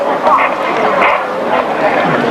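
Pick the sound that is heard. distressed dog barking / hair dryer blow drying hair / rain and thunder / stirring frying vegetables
distressed dog barking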